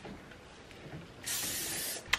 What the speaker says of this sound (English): So I love the spray on this hairspray as well.